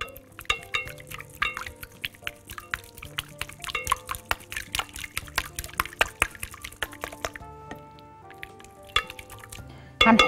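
Oil and egg are stirred together in a bowl, making close wet clicks and taps of a utensil against the bowl in an irregular rhythm, followed by a brief louder clatter at the end.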